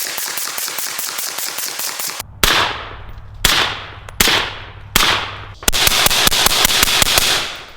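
Rifle fired through a Deadair Sandman S suppressor, heard as a rapid string of sharp cracks, then several loud single shots with ringing decays, then another fast burst, all close and without talk.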